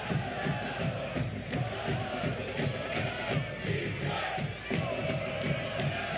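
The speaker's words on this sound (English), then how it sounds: "Now the Northern Guard trying to cheer him on the last few minutes here." Northern Guard supporters of Detroit City FC chant and cheer steadily through the final minutes of a soccer match against Chattanooga FC, a dense stadium crowd roar with rhythmic swells that holds for the whole stretch.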